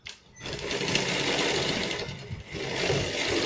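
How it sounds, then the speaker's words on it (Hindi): Sewing machine stitching a patiala salwar, a steady fast mechanical whirr running almost continuously after a brief start, close and moderately loud, with a short dip midway and no talking. "ये वाली सिलाई को हम यहाँ पे जोड़ के पोंचे का अब यहाँ पे सिलाई लगाएंगे।"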